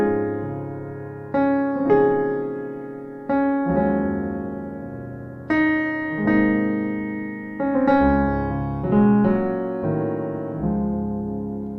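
Keyboard playing a gospel-style talk music pattern, sustained chords struck in phrases with short runs between them, solo and clear with no voices.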